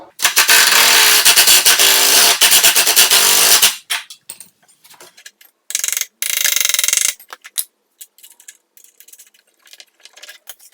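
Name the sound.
impact driver with 9/16 socket tightening a bolt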